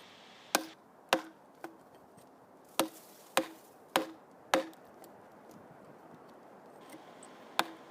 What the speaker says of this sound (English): I ended up using my big framing chisel, just as they would have in 1607.